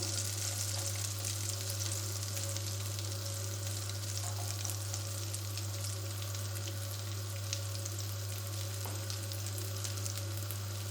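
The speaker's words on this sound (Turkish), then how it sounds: "Şimdi bunları kızartmaya geçeceğim." Steady, dense sizzling of pieces of dough frying in hot butter, continuous and close, with a low hum underneath and no voices.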